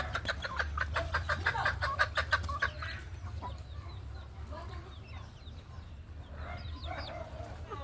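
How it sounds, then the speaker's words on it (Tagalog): A small chicken clucks close by in quick repeated bursts, then gives softer scattered calls over a low steady background rumble. "We have mini chicken."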